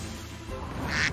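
Psypat, a duck-like creature in the video game Temtem, gives a short synthetic quack that rises at the end, a single call heard alone.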